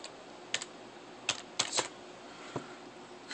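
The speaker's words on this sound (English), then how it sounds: "So I'm going to type in 0 template." A folder name is typed on a computer keyboard in a quiet room: a handful of sparse, crisp key clicks and small bursts, close and fairly soft, with no voices.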